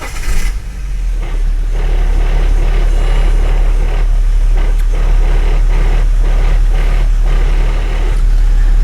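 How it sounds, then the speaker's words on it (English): A BMW E91 325d diesel with a worn, noisy clutch release bearing runs steadily at idle, a continuous close engine drone with a faint rattly undertone and no talking. "I've got a slightly not good sounding clutch release bearing"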